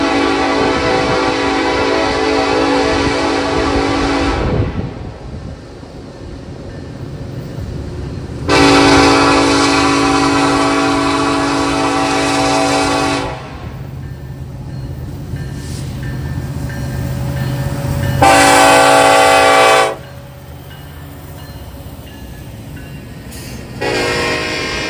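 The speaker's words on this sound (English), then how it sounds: "would come northbound on NS Mixed Freight Train 19M" Norfolk Southern mixed freight train 19M passes close by, sounding a series of loud, sustained horn blasts over the steady rumble of its rolling cars.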